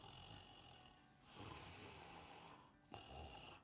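A voice imitates a man snoring, with two long rasping breaths and a third starting, each a harsh noisy rumble with brief pauses between, fairly close and alone without speech.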